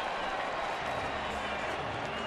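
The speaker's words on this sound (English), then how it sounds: "Crowd applauding the walk." A baseball crowd in a stadium applauds after a walk, a steady wash of clapping and murmuring cheers, distant and even, with no break for the whole stretch.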